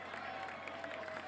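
A crowd applauding and cheering at an American Ninja Warrior finals course at Venice Beach, a faint, steady wash of clapping and cheers in the background under a commentator's voice.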